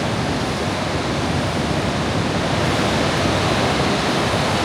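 Big ocean waves break on the surf in a steady, loud, continuous roar of churning water that fills the scene, with no voices heard.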